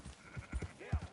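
A sheep bleating in the Red Dead Redemption 2 video game, a few short low bleats close by, faint and mixed with light background game sound.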